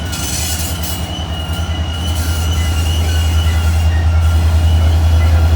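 A coal train easing downhill on Horseshoe Curve, Pennsylvania, with pusher locomotives on the rear: a deep steady diesel drone with rhythmic wheel clatter and a thin metallic squeal, loud and growing nearer.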